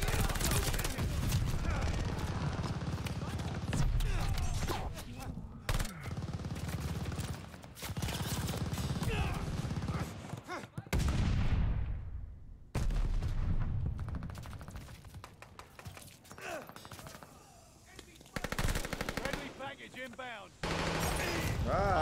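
Dense gunfire and explosions from Call of Duty: Vanguard on PS5 during a Hardpoint match, loud and near, rattling in bursts with brief drops, while a player talks over the fighting.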